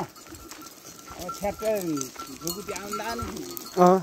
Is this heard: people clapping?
no